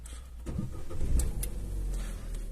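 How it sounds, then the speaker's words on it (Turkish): A 2012 Opel Corsa D engine cranking and starting, a low rumbling rise that settles into a steady idle close by, with no talk. "Ben burada aracımı çalıştırmak istiyorum."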